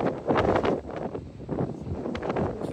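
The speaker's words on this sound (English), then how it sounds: "It's a cold wind." Strong, chilly wind gusts on Boscombe beach on a cool, cloudy day, buffeting the microphone in uneven, rumbling surges with no voices.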